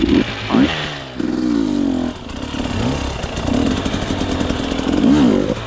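An enduro motorcycle engine runs close by on a Carpathian mountain trail, idling and revving unevenly in bursts with a rough, clattery tone, while people talk briefly nearby.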